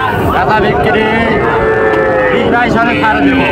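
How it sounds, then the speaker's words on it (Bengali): Heifer calves and other cattle at a livestock market, lowing and mooing amid a dense, steady crowd din with voices talking throughout. "লো কোয়ালিটি হাই কোয়ালিটি সব বকনা বাছুরগুলো পাওয়া যায়"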